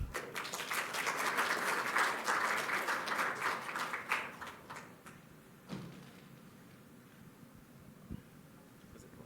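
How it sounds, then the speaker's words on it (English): A seminar audience on sustainability in the jewelry industry gives a guest speaker a round of applause, dense clapping that is loud at first, then thins out into scattered claps and fades to quiet. "May I have a big round of applause for him?"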